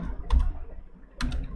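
A message is typed on a computer keyboard into a web form, with two short bursts of soft key clicks separated by a brief pause, close and fairly quiet.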